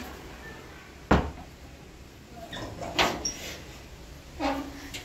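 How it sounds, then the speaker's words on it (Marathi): A door is shut indoors with one sharp knock, followed by a few softer clicks and rattles against a quiet room background. "दरवाजा लावून घेतो."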